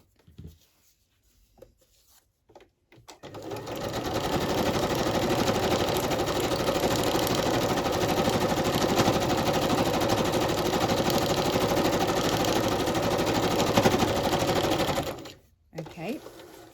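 A sewing machine stitches down one side of a piece of junk mail, running as one steady, continuous mechanical whir for about twelve seconds. The stitching starts after a quiet start and stops near the end.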